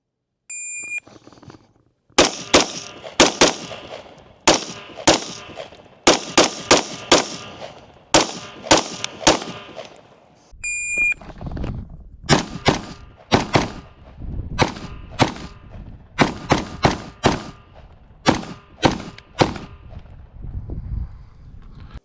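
Rapid pistol-style gunshots ring out against steel targets in bursts, sharp cracks followed by metallic clangs, loud and close, in two strings separated by a brief pause, with no talking over them.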